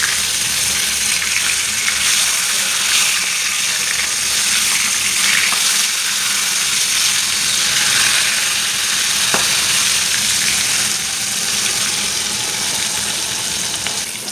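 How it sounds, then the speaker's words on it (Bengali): Rohu fish sizzling in hot oil with a constant crackle and hiss, close by and fairly loud, occasional sharper pops over the steady frying. "এক পিঠ ভাজা হয়ে গেছে বন্ধুরা, আর এক পিঠ ভেজে নিচ্ছি।"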